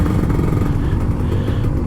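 A Kawasaki Ninja RR 150 motorcycle engine runs steadily and loudly up close with a dense low rumble, holding a constant level throughout with no voices.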